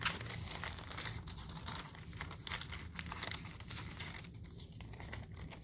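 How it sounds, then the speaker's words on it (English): Scissors snip zigzags into wrapping paper for an at-home collage craft, giving a steady run of close crinkling and crisp cutting rustles with no talk. "I am just going to see what happens if I cut some zigzags."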